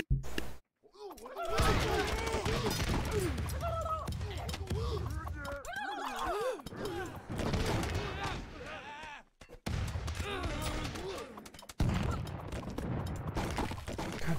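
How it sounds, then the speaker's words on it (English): Cannons fire in rapid succession during a battle in the game Totally Accurate Battle Simulator, a dense barrage of booms and cracks mixed with chaotic clatter and brief lulls, loud and continuous, with a voice talking over parts of it. "the cannons fire so fast"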